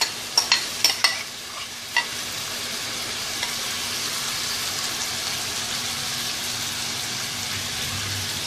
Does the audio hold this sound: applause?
no